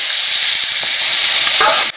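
Mushrooms hit a pan of well-fried masala paste and sizzle loudly with a steady, bright hiss, scattered with small pops and stirring scrapes, before cutting off abruptly near the end.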